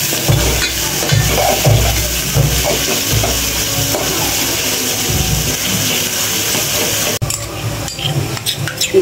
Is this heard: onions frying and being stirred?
yes